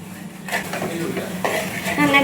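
Asafoetida powder stirred into instant lovi-lovi fruit pickle in a pot, a close scraping and clinking of a spoon against metal while a voice talks over it.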